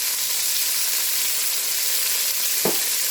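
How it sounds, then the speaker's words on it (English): Onion and garlic sizzle steadily in a pot of homemade beef stew on low heat, a loud, even frying hiss throughout, with one brief scrape of a stirring utensil near the end. "We're going to stir this up. And scrape the bottom so you get all those nice brown bits off of there."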